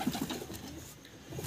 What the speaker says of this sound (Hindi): अभी गेट के अंदर से कबूतर अपने बाहर आएंगे।